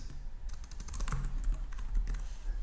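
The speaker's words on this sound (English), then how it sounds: "So let's type this out." Quick, close clicks of a computer keyboard as C++ code is typed, irregular bursts of keystrokes with short pauses between them.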